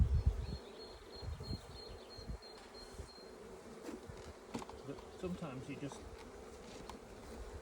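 Honeybees buzzing in an open hive during an inspection, a steady low hum of many wings close by, with a person talking briefly over it.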